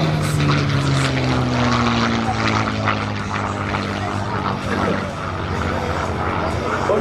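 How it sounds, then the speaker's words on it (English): A P-51 Mustang propeller fighter makes a low approach flyby at an air show, its loud piston-engine roar steady throughout with a falling pitch sweep as it passes close by. "Stewart brings the P-51 back in from the right side"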